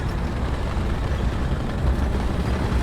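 A heavy Sherman tank engine in the video game War Thunder rumbles low and steady nearby, a thick, continuous drone without pauses.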